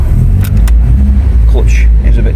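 An old Opel Manta GTE, a 30-year-old garage find, rumbles loudly close up as it pulls away through the gears, a deep steady engine drone with a voice speaking over it.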